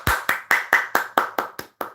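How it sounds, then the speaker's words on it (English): On a comedy podcast, about nine crisp hand claps ring out in a steady, evenly spaced run, sharp and close with nothing else over them. "Let's give Zen a round of applause"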